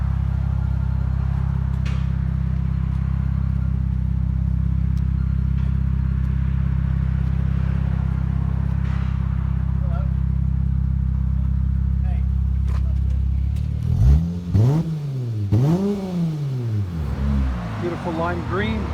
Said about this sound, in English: Now that has only MagnaFlow Magnapacks with no resonators